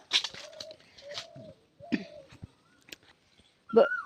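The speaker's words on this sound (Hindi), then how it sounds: "बहुत ही अच्छा कोयल बोल रही है।" A koel calls outdoors in a series of short, separate hooting notes spread through the clip, fairly close and clear, with a brighter burst near the end.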